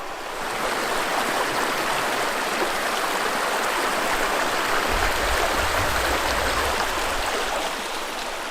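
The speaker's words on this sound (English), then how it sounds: "You can see the creek there down behind me" Creek in the Superstition Wilderness of Arizona, water rushing and babbling steadily over rocks, a constant close wash of sound with a slightly heavier low burble partway through, no voices.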